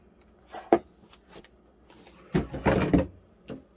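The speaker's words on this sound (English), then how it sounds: "magazine holders that were holding these books fell off the table." A few clattering knocks and thuds as magazine holders and books tumble off a table onto a hard surface, one sharp hit followed by a louder burst of rattling impacts.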